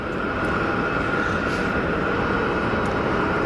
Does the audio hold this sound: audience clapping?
no